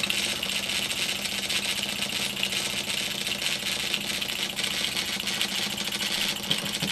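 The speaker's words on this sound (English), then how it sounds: "the engine running on its own" A small engine on a GISEA roller runs steadily with a fast mechanical rattle and buzz, constant in level throughout, no voices.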